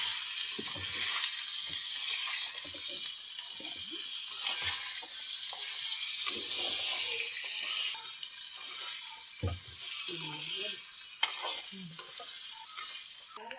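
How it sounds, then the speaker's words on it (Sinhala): Potatoes fry in oil with salt and curry leaves, giving a continuous hiss and sizzle. Stirring knocks and scrapes come and go through it at close range. "මේ විදිහට ලුණු කරපිංච ටික තෙලේ බැදෙනකොට අපි අපේ අල ටික එකතු කරලා හොඳින් කවලම් කරලා විනාඩි 5ක් විතර තියලා ගන්න ඕනේ."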